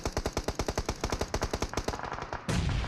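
Rapid automatic gunfire from a PUBG Mobile esports match rattles in quick, evenly spaced bursts for over two seconds, then stops and gives way to a dull wash of noise.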